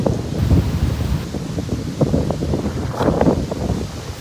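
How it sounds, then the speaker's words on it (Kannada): Strong wind gusts across a beach at around 6 am, a steady, loud, rumbling buffet against the microphone that swells in places, with possible surf mixed underneath and no talking. "ಫುಲ್ಲು ಗಾಳಿ ಬೀಸ್ತಾ ಇದೆ"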